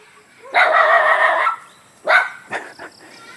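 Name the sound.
dog barking at another dog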